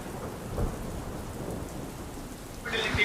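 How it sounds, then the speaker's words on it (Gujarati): A heavy downpour in Limkheda, Dahod hisses steadily as water floods, with a low rumble of thunder underneath and a burst of louder splashing near the end. "લીમખેડામાં ધોધમાર વરસાદ પડતા પાણી ભરાયા"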